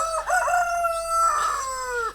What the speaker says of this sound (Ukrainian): Ось наш петух. Ось такий наш петушок.